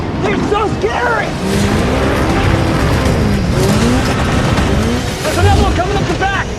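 Racing cars roar through a Transformers: Age of Extinction chase scene, with engines revving close and tires squealing in sweeping skids, all loud and continuous beneath dramatic film sound and talk.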